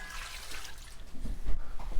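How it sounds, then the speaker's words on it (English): Water pours into a cooking pot of Rivers native soup with snails and seasoning, a continuous close splashing and gurgling that swells toward the end. "and then add water."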